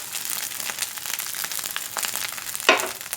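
Fried rice with gourami fish being stir-fried in a pan, a busy continuous crackle of sizzling oil with scraping spatula strokes and a sharp clank of utensil on pan near the end.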